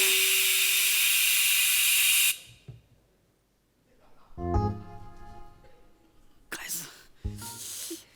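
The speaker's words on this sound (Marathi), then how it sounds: "सर ते कुकरची शिट्टी वाजली सर. भात लावला ना म्हणून." A pressure cooker whistle while rice cooks, heard as a loud steady hissing blast that cuts off after about two seconds, followed by people talking.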